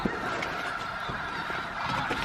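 A flock of geese honks continuously in a dense, overlapping chorus at moderate distance at Bosque del Apache Wildlife Refuge, New Mexico.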